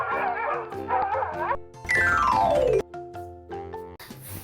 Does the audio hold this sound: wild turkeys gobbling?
no